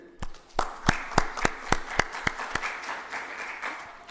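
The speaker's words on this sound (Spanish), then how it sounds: "Un aplauso para ella también" An audience gives a guest a short round of applause, a handful of distinct, loud claps that settle into a softer patter.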